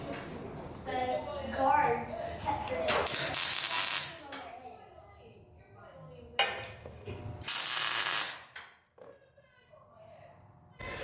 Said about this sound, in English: So I have this tack welded on